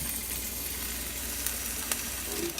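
Onions sautéing for burgers in a frying pan give a steady, close sizzle and crackle with a few faint stirring scrapes, no talking.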